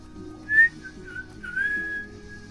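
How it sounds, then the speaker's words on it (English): A person whistles a short wavering melody, close and clear, a few sustained notes gliding up and down over a faint low musical background. "We do not whistle on stream."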